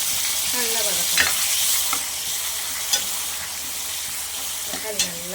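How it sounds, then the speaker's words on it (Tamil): Tomatoes sauté in a pan for sundakkai vathal kuzhambu, giving a constant loud sizzle. A spoon scrapes through them every second or so, making brief clinks and stirring sweeps. "இப்போ வந்து நம்ம வந்து இந்த தக்காளியும் போட்டு நல்லா வதக்கணும்."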